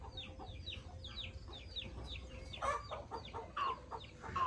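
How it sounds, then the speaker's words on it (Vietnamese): Vietnamese native chickens and chicks in a coop: soft, steady clucking from hens with rapid high peeping from chicks, a few louder calls near the end, moderately faint and with no talking. "đây đàn gà con kìa, là mình lấy trứng thôi, là cho gà mẹ nó ấp"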